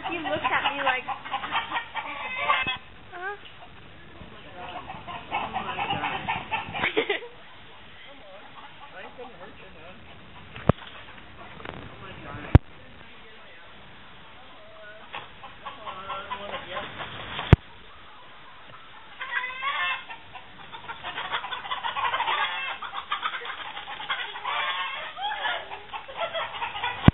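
A rooster clucks and murmurs close by in short repeated bursts, with people talking over parts of it.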